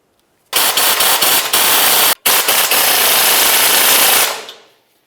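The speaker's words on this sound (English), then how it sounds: "Now when we tighten this clamp, you want to make sure you tighten each of these nuts evenly." A power tool rapidly tightens the exhaust clamp nuts on a 2000-2006 Chevrolet Tahoe during a catalytic converter replacement, producing a loud, harsh rattling burst of about four seconds with one brief pause before it winds down.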